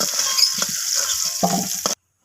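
Cut papaya pieces drop into hot oil after potatoes were fried, giving a steady close sizzle with a few bursts of spatter and utensil movement, ending abruptly in silence.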